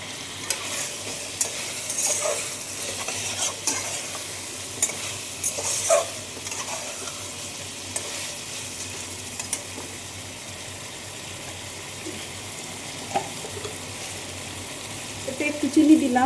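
Chicken pieces fry in a pan with red chili powder while being stirred, giving a steady close sizzle with scraping strokes that grow louder and clattery toward the end.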